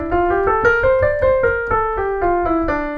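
A D natural minor scale played one note at a time at an even pace, with steady tonal notes rising in pitch at moderate volume and no gaps or speech between them.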